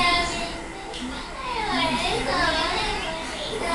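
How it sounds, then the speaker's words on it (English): A young child whines and cries in a continuous, wavering voice, fairly close, with a steady background hum throughout. "Sorry if you hear my child crying in the background."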